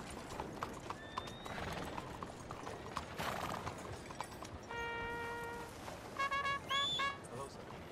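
Horse hooves clip-clop at a steady walking pace in the Red Dead Redemption 2 video game, faint and continuous, joined by a brief horse whinny and soft game sounds, with a voice speaking.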